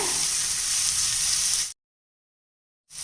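Ground spices including chilli powder, Kashmiri chilli powder and coriander powder sizzle loudly in a hot frying pan while being stirred, a steady bright crackle that cuts off abruptly into silence before resuming briefly.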